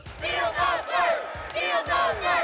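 Crowd at the Democratic National Convention in a large hall, a loud sustained roar of booing and shouting voices rising and falling in repeated swells throughout.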